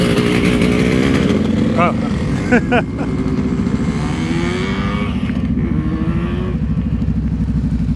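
A motorcycle engine revs and idles continuously during slow-speed riding practice, a loud, close, throbbing rumble that rises and dips with the throttle. A person gives a short exclamation over it.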